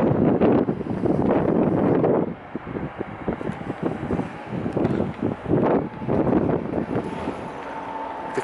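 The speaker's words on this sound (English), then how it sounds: "It's a bit windy outside" Strong gusty wind buffets the microphone in loud roaring bursts, easing briefly in the middle before surging again.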